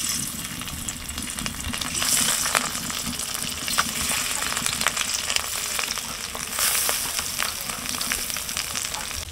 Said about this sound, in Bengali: মা, আপনি এখন মাছগুলো ভেজে নেন